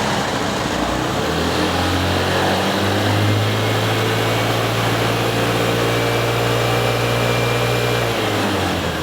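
A Vespa ET4 scooter engine idles steadily while warming up, a constant close hum with a low rumble that holds evenly throughout, no voices.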